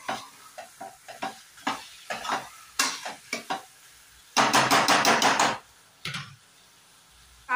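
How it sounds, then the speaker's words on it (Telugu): Half a kilo of washed chicken pieces stirred in a hot pan for a masala chicken dish, with bursts of scraping and sizzling that come and go, then a longer stretch of steady frying near the end. "చికెన్ వేసి ఒకసారి బాగా కలుపుకోవాలి."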